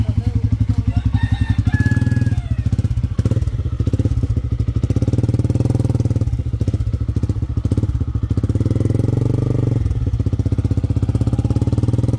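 Motorcycle engine running steadily and close throughout, a loud pulsing idle-to-cruise drone with a rooster crowing faintly in the background early on.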